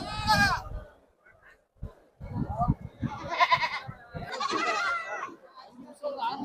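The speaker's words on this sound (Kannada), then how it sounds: "ಓತಾನ ಮೇಕೆ ಮರಿ ಅಣ್ಣ?" A goat kid bleats several times at the Chitradurga sheep market, loud and close, with nearby voices talking between the calls.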